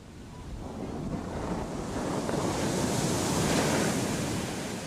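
Ocean surf washing onto a beach in southern India where fishermen haul in a net, a steady broadband roar of breaking waves with wind buffeting the microphone, swelling slightly louder midway and with no voices.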